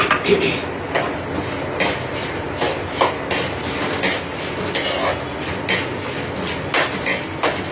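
Roasted peanuts and roasted split chickpeas (dalia) are stirred in hot oil in a pan with a spoon while making bhadang. The spoon scrapes and clinks against the metal in repeated uneven bursts over a steady rustle, close by.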